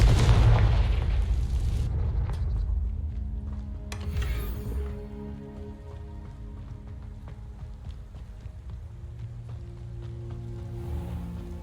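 In the Hogwarts Legacy video game, a Confringo spell bursts in a loud explosion at the start, then echoes and crackles fade into quieter game ambience with a smaller pop a few seconds later.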